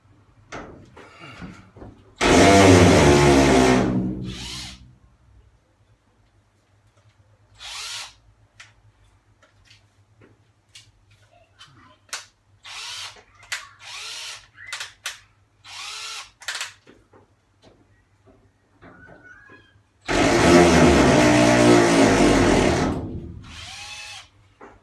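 A cordless drill fitted with a hole saw whirs in two long bursts, winding down as it bogs, with clunks and handling noises in between.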